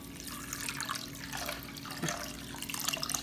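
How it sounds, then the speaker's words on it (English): Spring water poured over sea moss in a container, a close, splashy stream of liquid filling and gurgling continuously for a few seconds without any talking. "I got some more spring water, and we're just gonna pour that in to cover it."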